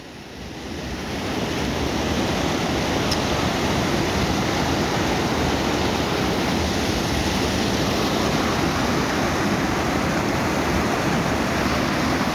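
Heavy rushing water at night in a forest, a loud constant roar from start to finish with no talk over it.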